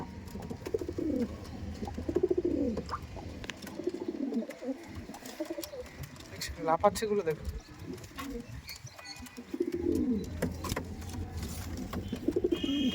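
Madras pigeons coo in a loft, their repeated low, throaty calls close by, with occasional chirps and wing movement, while a person talks over much of the sound.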